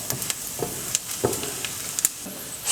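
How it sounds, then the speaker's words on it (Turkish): Rice and a carrot sauté in a pan, with a soft continuous sizzle punctuated by repeated light scrapes and taps of a spoon stirring, close and without speech. "Renk vermesi için 1 adet havucu da pirinçlerle birlikte 4-5 dakika daha kavuruyoruz"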